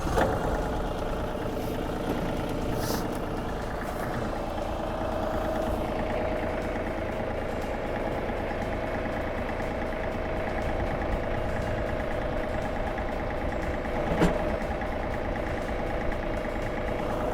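A John Deere tractor with an iMatch quick-hitch idles steadily while backing up, a moderate, even engine drone lasting the whole stretch, with a brief click partway through.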